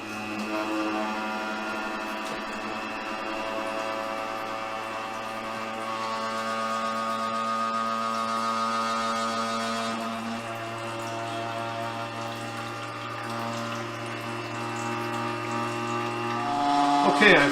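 Slavic Beauty cream separator spinning at full speed, giving a steady, close mechanical hum with layered whining tones that holds constant and swells slightly near the end, with no talking.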